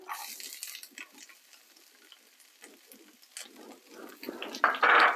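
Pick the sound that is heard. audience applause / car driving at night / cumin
cumin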